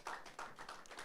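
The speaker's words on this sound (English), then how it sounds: "A round of applause for her," Audience applause welcoming a woman representative to the stage at an Inspo Africa event, a short burst of steady clapping from a crowd, moderately distant and fairly faint, with no talking over it.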